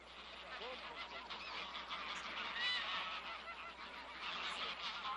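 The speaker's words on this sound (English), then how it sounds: "on, geese, grey-lag geese." A flock of greylag geese honks and cackles continuously, many overlapping calls forming a noisy, chattering din at moderate distance.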